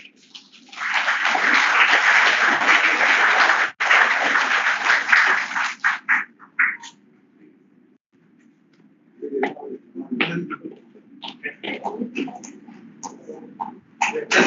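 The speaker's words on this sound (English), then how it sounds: "So once again, a huge round of applause for all the teachers" Audience applause at a foundation day celebration for teachers retiring on superannuation: loud, sustained clapping that stops abruptly, followed by quieter scattered sounds and murmuring.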